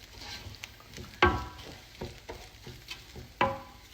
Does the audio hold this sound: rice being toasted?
yes